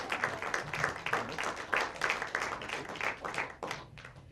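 An audience applauds Suzanne Hopgood, chair of CRDA, at a Hartford gathering: a dense patter of many hands clapping at moderate distance, steady for several seconds and tapering slightly at the end.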